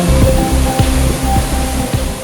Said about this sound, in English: a sound like someone taking a shower slowly rises in the distance